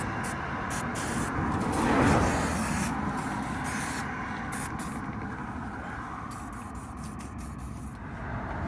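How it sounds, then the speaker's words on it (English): WD-40 sprayed onto a seized snap ring during a front wheel bearing replacement on an Acura TSX: a soft, continuous aerosol hiss that swells briefly early on, then settles into a steady, close spray. "So what we have to do is get some WD-40 like so and spray this just a little bit."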